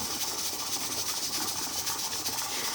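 A pressure canner's weight jiggles on a stove while canning beef, letting out a steady, loud hiss of steam that runs continuously through the clip with no talking.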